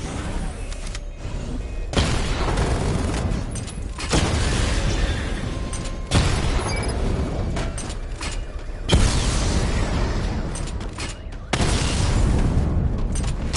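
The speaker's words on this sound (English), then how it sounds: "Charge the missile barrage to level 2 to destroy up to 4 targets at once." Booming missile barrage blasts in Batman: Arkham Knight arrive in loud bursts every two or three seconds. Each deep explosion fades into a mechanical hum before the next impact.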